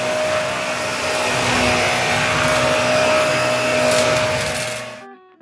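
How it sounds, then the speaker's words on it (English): A vacuum cleaner runs inside a converted ambulance RV, a loud steady whine and rush close by that drops away as it shuts off at the end. "I can vacuum too."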